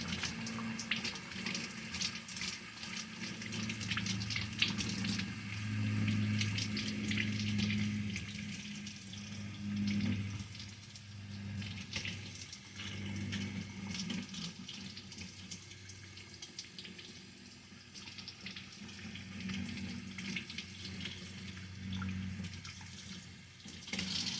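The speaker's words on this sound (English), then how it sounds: "I'm going to give it a rinse real quick. Nice cold water." Cold tap water runs steadily into a sink while rinsing a deer heart, a continuous soft rushing splash with no voices.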